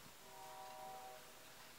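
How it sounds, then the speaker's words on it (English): A distant train sounds a brief horn over a low, steady rumble, faint and far off. "This train, it's always something that disturbs my videos"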